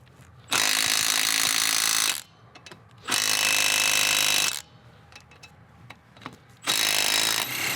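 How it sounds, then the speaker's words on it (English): A Milwaukee M12 FUEL stubby impact wrench hammers at a 22 mm lug nut on a one-ton truck, firing three loud, sustained rattling bursts, each about one to one and a half seconds long, with quieter clanks between them. "Let's see if the M12 will take one of these others loose."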